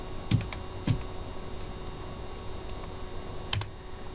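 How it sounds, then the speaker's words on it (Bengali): Computer keyboard typing while entering a login and password, a few sparse, quiet key clicks spaced apart against a faint steady hum, no talk. "আমি আমার সিসি ট্যাব দিলাম এবং পাসওয়ার্ড দিলাম।"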